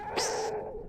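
A chirping creature in a video game lets out a single short, bright squeaky chirp that rises sharply and then trails off, fairly faint against a low background hum.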